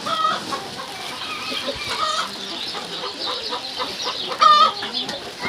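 Several chickens cluck continuously nearby, a busy overlapping chorus of short clucks with one louder squawk standing out.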